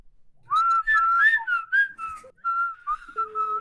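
A person whistles a wavering, melodic tune up close, a few breathy phrases rising and falling with short pauses, clear and alone with no talking.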